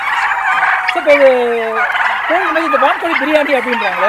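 Loud, close turkey gobbling, rapid wavering gobbles rising and falling from several birds at once, continuous throughout.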